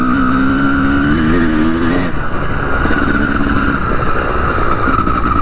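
A 250CR enduro motorcycle engine runs steadily while riding, loud and close throughout, with a pitch shift near the two-second mark as the revs change.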